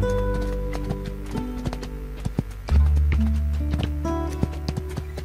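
Horse hooves from a video game clip-clop in a fast, steady galloping rhythm, heard up close over a low game soundtrack, with no talking.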